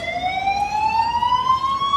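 A wailing ambulance siren rises steadily in pitch, loud and close, sounding continuously with no other noise over it during a large street march in Algiers.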